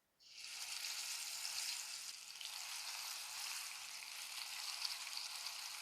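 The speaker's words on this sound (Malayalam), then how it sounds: "എണ്ണ നന്നായിട്ട് ചൂടായിട്ടുണ്ട് കേട്ടോ ചിക്കൻ അങ്ങോട്ട് ഇട്ട് കൊടുക്കുക" Steady loud sizzling of chicken frying in hot oil, starting abruptly and continuing evenly throughout with no talking.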